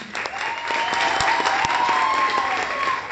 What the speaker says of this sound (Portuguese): uma salva de palmas pra eles